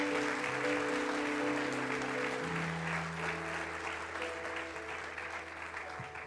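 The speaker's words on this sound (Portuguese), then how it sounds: "Queria que vocês aplaudissem Jesus pelos meus autores." A church audience at a Saturday-night Bible conference applauds: dense, sustained clapping from a large crowd that fills the room and slowly tapers off, with an organ or keyboard tone holding underneath.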